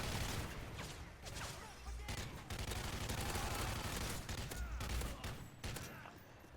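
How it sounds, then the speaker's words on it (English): Sentry guns in Modern Warfare 3 Survival mode on the Seatown map keep up a steady, dense barrage of gunfire that runs unbroken for several seconds at moderate loudness, with scattered shots overlapping. "Sentry guns are really helping out."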